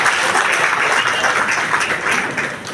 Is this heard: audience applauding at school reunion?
yes